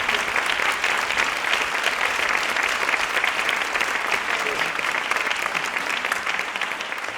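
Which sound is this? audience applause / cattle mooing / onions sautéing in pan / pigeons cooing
audience applause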